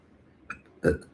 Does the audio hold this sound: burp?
yes